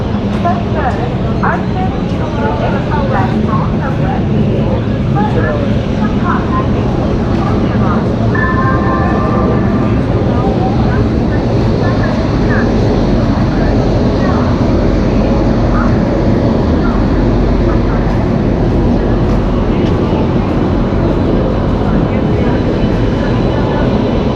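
A train rumbling at Chandigarh railway station during major redevelopment work, a loud continuous low roar lasting throughout with faint squeals and clanks, people talking over it.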